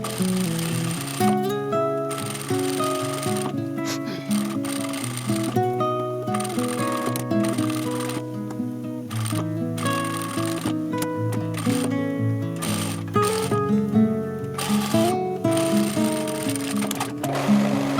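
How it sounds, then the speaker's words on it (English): A sewing machine runs a straight stitch along a 1 cm seam joining two pyjama pant legs, its needle chattering rapidly in bursts of steady whirring, separated by brief pauses, close and fairly loud. "I sewed the two legs together with a 1 cm seam allowance using a straight stitch."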